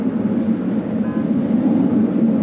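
A Qantas aircraft departs from runway 34 left at Sydney Airport on a day of high wind. A constant, loud, low roar rumbles throughout without any clear rise or fade.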